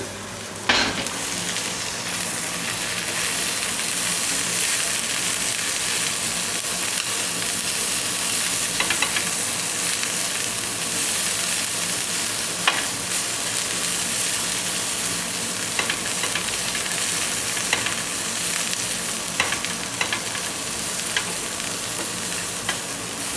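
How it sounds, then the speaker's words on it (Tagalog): Asparagus, cleaned and laid on a grill alongside hamburgers, sizzles and crackles steadily for the whole stretch, close and continuous, with occasional sharp clinks of utensils and shifting food over the hiss. "So, lalagay ko na dito sa ihawan. Lahat ko na."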